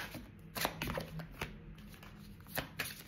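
Oracle cards being shuffled and drawn by hand: soft, close riffling and slapping bursts at irregular intervals, fairly quiet against a faint background.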